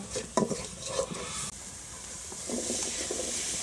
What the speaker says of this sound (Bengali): লবণ দিয়ে দিলাম হলুদ দিয়ে দিলাম দিয়ে মশলাটা ভালো করে কষিয়ে নেব